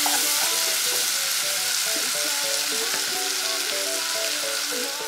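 A macaroni and corned beef dish with a seasoning cube sizzles steadily in a pan as it is stirred, with faint wavering tones running underneath.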